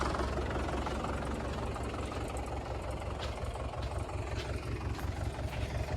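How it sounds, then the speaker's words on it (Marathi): A tractor pulls a plough through a hard field that was trampled during the rainy season. Its engine drones steadily and close by, a low continuous rumble with a faint knock and no voices. "आपला हा जो ट्रॅक्टर आहे तर तो आपण आपल्या अगोदरच्या तासामध्ये आणायचा आहे"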